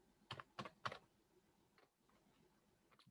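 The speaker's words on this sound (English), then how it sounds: "I'm typing this in." Typing on a computer keyboard, heard close and quiet in a calm room. Three distinct clacks come first, then a few softer scattered taps.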